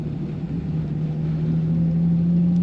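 A 1948 Plymouth Special Deluxe sedan drives in second gear, its engine producing a steady, even low hum that holds nearly constant throughout, heard from inside the car.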